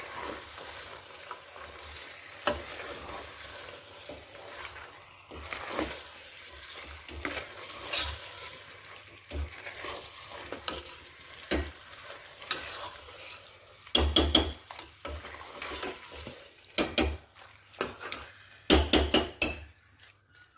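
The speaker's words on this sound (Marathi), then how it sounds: "तर आता यामध्ये हळद मीठ लावून घेतलेला मटण टाकून घेऊया" Mutton coated in turmeric and salt is stirred into cooking masala, with a low simmering sizzle under repeated scraping and clanking strokes of a spoon against the pot, growing louder and busier toward the end.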